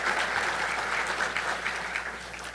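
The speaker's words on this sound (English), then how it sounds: "Please give them a round of applause." An audience at a breakfast event claps steadily for a couple of seconds, a dense, sustained patter of many hands with no voices over it.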